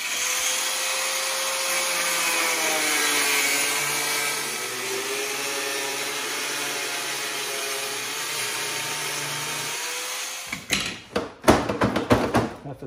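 A power tool cutting a quarter inch off the edge of a John Deere riding mower hood, a sustained whining, rising grind for about ten seconds, followed by scraping and knocking sounds nearby.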